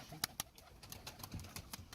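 Malatya tumbler pigeons, a feathered-foot female among them, coo softly in a loft, with a few sharp clicks and faint bird calls scattered across a quiet background.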